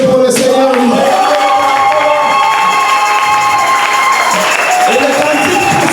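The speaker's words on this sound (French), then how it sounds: "Applaudissez pour le Seigneur." A church congregation at a French-language service claps and cheers in praise, a loud, continuous wash of applause and shouting voices that fills the room.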